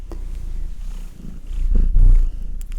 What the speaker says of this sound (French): un petit chat de 6 mois de type Maine Coon